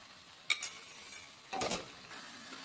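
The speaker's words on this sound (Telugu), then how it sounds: "గోంగూరను వేసి బాగా కలుపుదాం. కలుపుతూనే ఉండాలి" Pounded gongura leaves are stirred into a chicken curry in a pot, giving two short scraping bursts of a spoon against the pan over a faint low sizzle.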